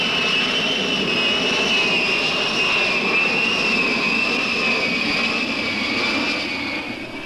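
Jet aircraft engine roaring at John F. Kennedy International Airport in 1968, a loud sustained whine with a steady high-pitched tone over broad rumble, easing slightly toward the end.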